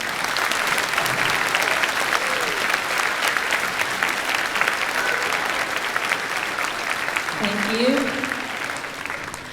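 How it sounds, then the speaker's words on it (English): A school audience at a Veterans Day program applauds the veterans, steady clapping from a large crowd filling the room, with a brief spoken word near the end. "welcome them with a round of applause."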